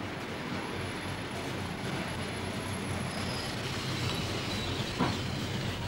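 A train rolls along with a steady rumble and rattle, faint squeals now and then above it, and one brief clank near the end. The sound is continuous and moderately distant.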